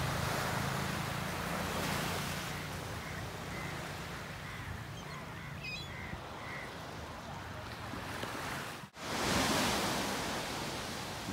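Waves at Adgaon Beach rush in as a broad, steady wash of surf, soft and somewhat distant, with wind noise, a brief faint bird call, and a short dropout near the end.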